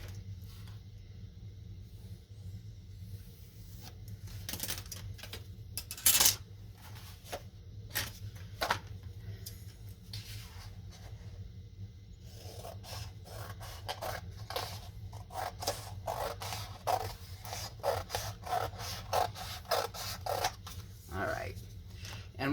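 Paper being cut and trimmed for a Stamperia ceremony album, close scissor snips and scraping paper handling in scattered bursts over a low steady background hum, with brief louder clicks.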